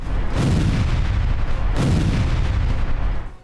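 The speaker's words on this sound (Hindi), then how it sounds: "रूसी सेना ने यूक्रेनी सैन्य ठिकानों पर जमकर बमबारी की।" Artillery bombardment during a Russian military attack on Ukrainian military positions: two heavy, loud booming blasts with long rumbling tails, continuous and dense throughout.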